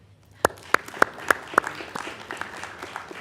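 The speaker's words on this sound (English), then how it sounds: "at least we said their name and clap for them" Brief applause from a small audience at a San Marcos city council meeting, a handful of sharp distinct claps in sequence that soften into scattered lighter clapping.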